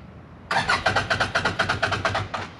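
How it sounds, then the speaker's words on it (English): A uForce 1000 UTV engine cranks with a rapid, regular starter rhythm of about a dozen strong pulses, then a brief gap and one more turnover. It sounds loud and close, with no voices. "let's crank up the uForce 1000 and compare that"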